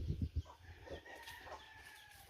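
Chickens cluck and call faintly at a distance, with a rooster's crow mixed in among scattered low thumps.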